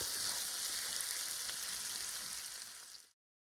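Mushrooms and onion fry in a pan with a bright, steady sizzle close by, holding evenly for about three seconds before cutting off abruptly.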